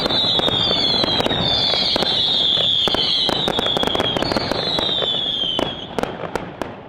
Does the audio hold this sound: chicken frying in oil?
no